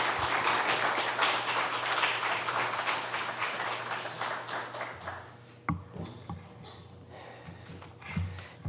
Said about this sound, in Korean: 우리 보내어 주신 하나님께 영광의 박수 올리면서